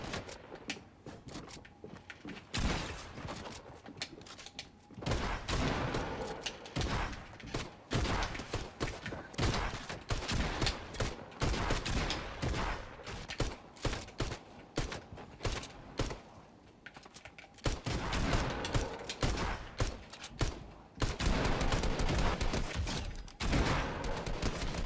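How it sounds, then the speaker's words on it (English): Gunfire from the Fortnite video game on a Nintendo Switch, rapid bursts and sustained strings of shots that start and stop across the stretch, loud and close, with no talk. "this guy's just shooting in the house by himself"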